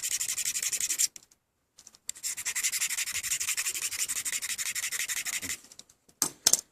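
A Stanley 10-049 pocket knife blade is rubbed across a diamond sharpening stone in long, steady gritty strokes, close and clear, with one brief pause and a few short scrapes at the end.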